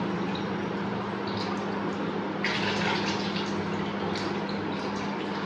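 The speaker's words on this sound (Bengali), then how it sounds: "আর একবার একটু ধুয়ে নেব" Lotte (Bombay duck) fish being rinsed by hand in water, a continuous close splashing and trickling wash with a brief louder slosh midway.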